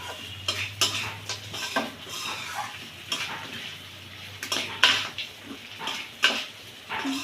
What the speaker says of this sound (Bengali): এবার সবগুলো একসঙ্গে একটু কষিয়ে নেব।